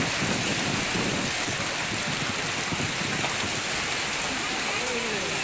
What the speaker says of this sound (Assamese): ইতিমধ্যে গুৱাহাটী মহানগৰীত প্ৰচণ্ড বৰষুণৰ সৃষ্টি হোৱা পৰিলক্ষিত হৈছে